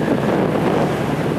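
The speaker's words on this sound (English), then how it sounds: "It's also pretty windy today, so that will be something to account for." Steady, heavy wind buffets the microphone, producing a loud, continuous rumbling roar with no other sounds.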